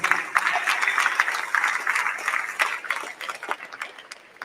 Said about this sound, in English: So a big round of applause for the coaches.